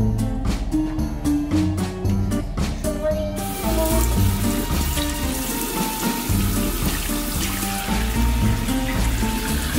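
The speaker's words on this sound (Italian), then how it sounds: "Ora ci metto un po' di acqua fresca" Fresh tap water running onto skin, a steady close splashing trickle with a rhythmic thudding pattern early on, continuous and fairly loud throughout.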